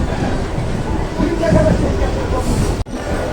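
A Sealdah–Kalyani Simanta local train on Eastern Railway pulls into Kalyani station with a loud, continuous rumble and rattle heard from on board, ending in a brief sharp knock.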